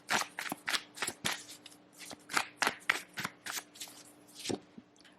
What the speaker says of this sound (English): We are going to pull some oracle cards here just to get a little bit more information.